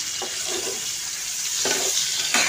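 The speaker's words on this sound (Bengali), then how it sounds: "ওর জন্য হালকা করে ভাজবো আমি।" An egg frying lightly in a pan, a constant bright sizzle with a few soft scraping stirs over about two seconds, close and with no voices.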